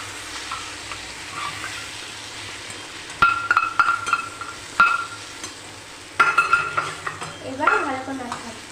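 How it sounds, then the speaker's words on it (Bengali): Oats being stirred in hot oil in a cooking pan: a steady soft sizzle runs throughout while a spoon scrapes and clinks against the metal in several bursts, close and clear, with no talk. "এবার ভালো করে নাড়তে হবে।"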